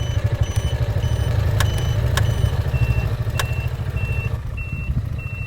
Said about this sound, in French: Lorsque l'on enclenche,